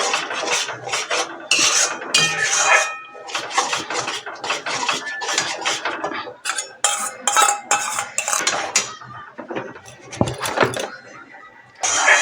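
A spoon scrapes and clatters against a pan while spice paste and sour yogurt fry, with irregular rubbing strokes and knocks throughout at close range.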